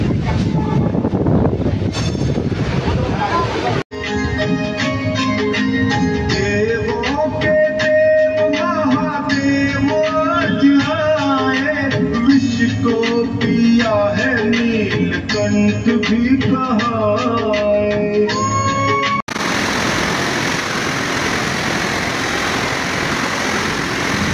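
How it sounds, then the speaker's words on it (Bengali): A train rumbles past loudly and continuously, its wheels squealing and screeching on the rails, with rougher noise before and after. "সেই ট্রেন আসছে"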